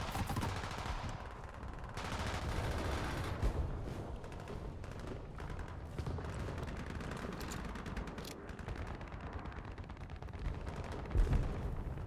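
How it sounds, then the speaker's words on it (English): Sustained gunfire rattles through a War Thunder battle, with overlapping machine-gun bursts and heavier booming shots crowding together at moderate loudness and a louder blast near the end. "Yeah, our guys are shooting at each other."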